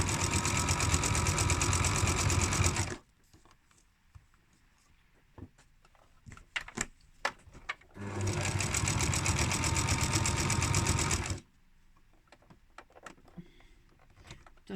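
A sewing machine stitches a pajama waistband in a ring, running in two steady bursts of about three seconds each, separated by quieter handling noises and pauses.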